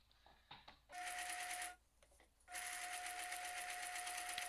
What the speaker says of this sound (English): I'll need to sew a line of loose stitches where the first fold will be